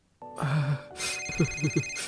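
A telephone rings in a Hindi cartoon family scene, a bright electronic ringtone sounding in short repeated bursts, fairly loud and close, with no voices over it.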